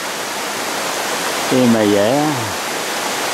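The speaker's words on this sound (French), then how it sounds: "en pleine forêt, une belle cascade d'eau sur de grandes pierres" Forest waterfall in the Aravis mountains cascading over large stones, a steady broad rushing roar throughout, while a voice speaks briefly in the middle.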